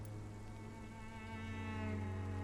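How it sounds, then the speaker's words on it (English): Steady rain pours without pause through a city street in the video game Vampyr, a continuous, even wash of falling water with no voices over it. "It hasn't stopped raining."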